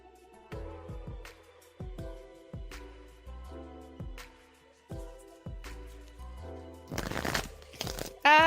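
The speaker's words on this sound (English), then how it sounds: "Shuffling for you now, Taco, okay?" Tarot cards being shuffled, giving close, crisp repeated riffling and snapping clicks in an uneven rhythm, building to a louder flurry at the end, with no talking.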